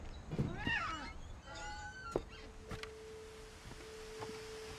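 A cat in a story-driven video game meows a few times, drawn out and rising, near and fairly clear, with a faint steady tone and soft ambience underneath.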